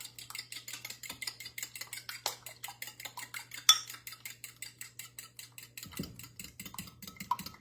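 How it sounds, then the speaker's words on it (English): Eggs whisked in a bowl for an omelet, a quick, steady rhythm of metal utensil tapping and scraping against the bowl, close and fairly quiet, continuing throughout without talking. "let me whip my eggs up"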